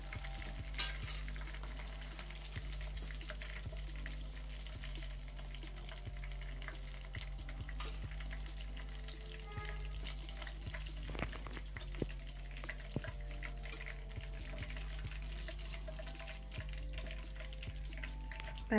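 Chicken pieces frying in oil until golden brown, with a steady, close, even sizzle and crackle that runs without a break and no talking.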